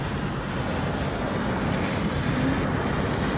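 Continuous rushing water and wind noise, like waves churning around a moving boat, loud and steady throughout.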